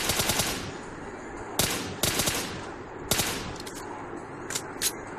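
Video game gunfire in a battle-royale style match, short automatic bursts and single sharp shots spaced across the clip, fairly close and crisp, with brief quiet gaps between volleys.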